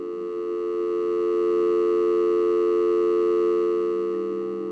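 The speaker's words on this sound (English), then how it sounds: "we were just getting the equivalent of a tone" A steady electronic tone from the Voyager 1 spacecraft hums on evenly, several pure pitches stacked together, swelling slightly and then holding, with no voices.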